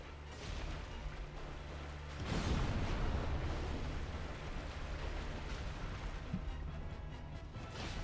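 A heavy explosion from a boss attack in Dark Souls Remastered bursts out about two seconds in. A dense, roaring rumble follows and stays loud, only slowly easing off through the rest of the clip.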